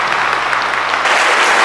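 A church congregation at a Sunday service applauding, dense loud continuous clapping from many hands filling the whole moment.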